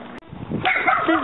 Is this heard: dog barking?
yes